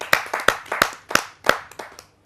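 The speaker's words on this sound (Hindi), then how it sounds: "जोरदार तालियों के माध्यम से।" Applause from the audience at a Hindi kavi sammelan poetry recital: a few loud, separate hand claps about a third of a second apart that quickly die away into quiet.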